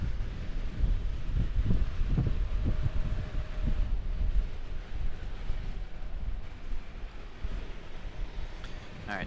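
Strong wind gusts roar across the microphone during a storm at Raleigh Durham International Airport, a continuous loud rumbling buffet with low thudding surges, no talking.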